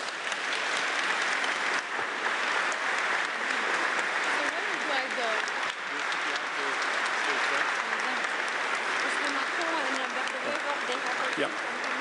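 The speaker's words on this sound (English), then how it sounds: "Please give them an applause." Sustained applause from an audience at an EU leaders' meeting in Antwerp welcoming the French President and the Belgian Prime Minister, dense, even clapping filling the room throughout, with scattered voices faintly underneath.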